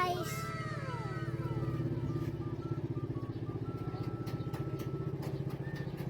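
A motorcycle ridden along a road, its engine droning steadily with a rhythmic pulsing throb, moderately close, while faint tonal sounds and clatter pass in the background; no clear talk.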